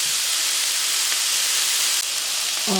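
Jerk pork cooking in a hot pan for a Marley Spoon rice bowl: a loud, steady hissing sizzle that fills the whole stretch, ending in a brief low rumble.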